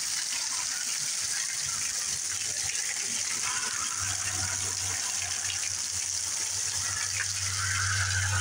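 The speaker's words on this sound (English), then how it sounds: "That's when you know it's pouring rain right there." Heavy rain pours steadily during Hurricane Helene in South Carolina, a constant close, loud wash of water with a low rumble that joins in partway through.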